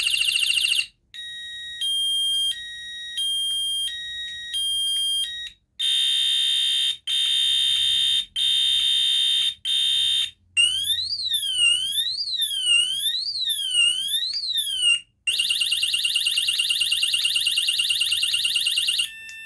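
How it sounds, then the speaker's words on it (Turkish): A loud electronic home alarm system cycles through several piercing tones: pulsing beeps, a rising-and-falling wail, then a continuous high-pitched shriek, close by. "Alarmım çalışıyor görmüş olduğunuz gibi"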